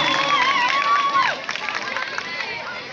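A lively crowd at a Bulgarian party show cheers and applauds as the host's female colleague is called to the dance floor, a dense, steady wash of clapping and shouting with some whistles and voices rising through it.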